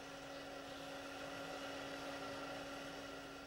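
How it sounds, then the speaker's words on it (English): A vacuum cleaner runs steadily to inflate things, giving a continuous whirring motor drone with a strong steady hum, even and unbroken, with no talk over it. "The vacuum cleaner actually has the power to inflate things on a much larger scale."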